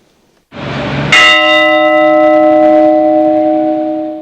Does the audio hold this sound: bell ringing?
yes